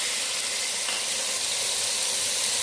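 Tomatoes go into a pan of frying onion, garlic, ginger and mustard seeds, giving a steady, close hissing sizzle that holds evenly throughout with no voices.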